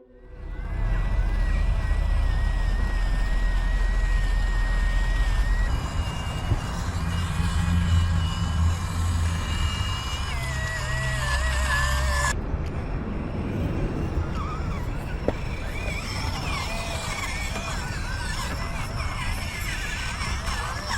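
Small FMS FCX24M 1/24 scale RC trucks drive outdoors under a bridge, their motors whining continuously up close and shifting in pitch as they move.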